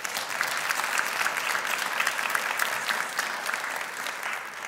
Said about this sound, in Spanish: ¿Por qué no das un fuerte aplauso a Dios por eso?